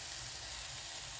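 Mustard paste and dried red chilli sizzle in a hot pan of oil, a steady soft frying hiss that stays even and close throughout the short stretch, with no voices.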